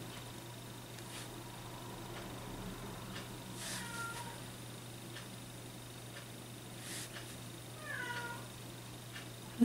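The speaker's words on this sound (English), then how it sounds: "That's my big cat complaining about something." A large domestic cat meows in a complaining way, with a few drawn-out calls spaced several seconds apart over a steady background hum, fairly faint and alone.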